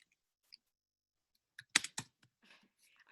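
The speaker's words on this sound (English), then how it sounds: "just typing in the chat box." Quiet, close clicks on a computer keyboard come in a short cluster of keystrokes, with a few scattered taps before and after, while someone types into a chat box.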